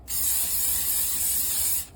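Oil spray hisses from a can onto a ball of bread dough in a bowl, one steady close burst under two seconds with no talking.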